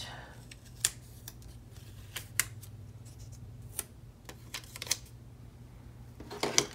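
Scissors snip through a planner sticker in a series of short, crisp cuts spaced irregularly, with a low steady hum underneath and a quicker cluster of snips at the end.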